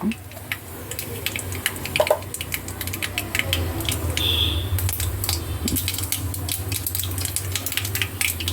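Mustard seeds drop into a hot kadai holding fried okra and crackle in sharp, scattered pops over a low steady hum, close and fairly loud, with no talking.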